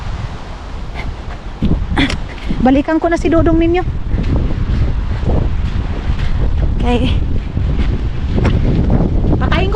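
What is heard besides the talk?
strong wind blowing into microphone on a mountain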